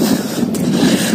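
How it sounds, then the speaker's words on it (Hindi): Cold winter wind blows outdoors in a village, buffeting the microphone in a loud, rough, continuous rush with no voices. "बहुत ठंडी ठंडी हवा चल रही"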